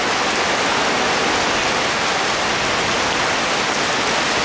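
Rain falls heavily and continuously in a wet-season afternoon downpour, producing a loud, uniform wash of noise for several seconds with nobody speaking.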